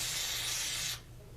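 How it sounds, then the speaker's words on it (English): A single close, loud burst of aerosol cleaner hisses onto the parts of a Garcia Mitchell 304 fishing reel for about a second, then cuts off to a faint room hum. "spray each of the parts and scrub them down good"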